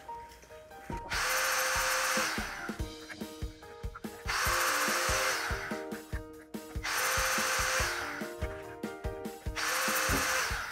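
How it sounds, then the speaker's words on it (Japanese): Hand-held sander grinding the corners off metal nuts for a joined spear-fishing spear: three long, loud grinding passes separated by short pauses, with rattling and knocks between them, close up. "ちょっとナットの方の角をサンダーで落とすっていうか削ってきます"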